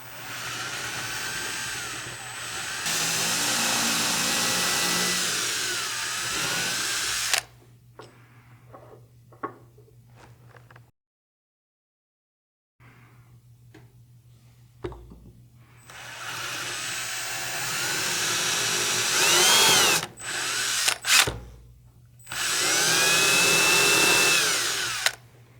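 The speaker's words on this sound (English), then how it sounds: "I'll be using a 5/64 drill bit" A power drill with a 5/64 bit bores into a pepper mill cover plate in steady whining bursts: a long run, a quiet pause, then several shorter runs with brief stops between.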